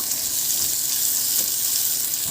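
Onion sautés in a hot pan with a steady, dense sizzle and light stirring, close and continuous, with no voices.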